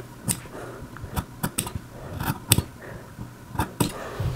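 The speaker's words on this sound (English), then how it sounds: "Cut through the 1, 2, 3, 4 crease lines up to the stitch, or up to that 1/2 inch line." Scissors cut through fabric along crease lines for a Henley placket, a series of sharp, close snips arriving in irregular bursts over a quiet background.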